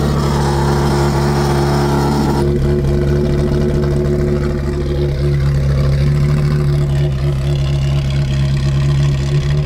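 Ferrari V8 with its exhaust valves unplugged, running loud and close: a steady low idle rumble that sharpens and opens up into a raspy, revving note after a couple of seconds, held throughout.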